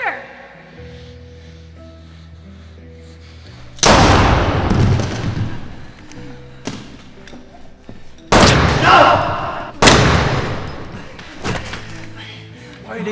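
Gunshots in an end-times action film: three loud, sharp blasts with decaying reverberant tails, spaced a few seconds apart over tense low music, with shouted dialogue in between.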